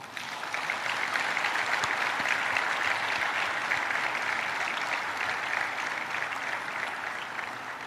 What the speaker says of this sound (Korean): 깊은 존경과 감사를 표하는 힘찬 박수를 부탁드립니다.